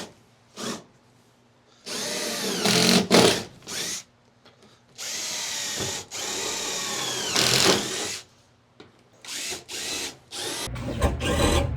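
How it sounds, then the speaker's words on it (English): A power drill boring pilot holes with a 1/4 inch bit into a van's metal floor, in repeated bursts of whining spin a few seconds long separated by short pauses, close and loud with no talk. "We're going to use a 1/4 inch drill bit. We're going to go ahead and pilot all of these holes."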